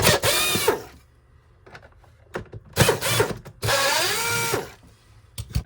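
A power screwdriver or drill whirring in several bursts while screws are removed from a Riccar R25S vacuum cleaner, close and loud, with clicks and handling noises between the runs.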